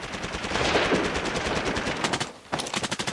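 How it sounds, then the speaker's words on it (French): Rapid bursts of machine-gun fire crackle and echo continuously, with a brief lull before another volley of sharp, reverberating shots. "L'écho démultiplie le bruit des rafales"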